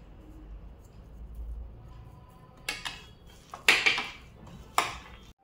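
Coriander and curry leaves are mixed into a filling in a bowl, giving faint rustling followed by several sharp clinks and taps of a utensil against the dish, close and spaced apart.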